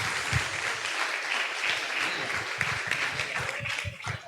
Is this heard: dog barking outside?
no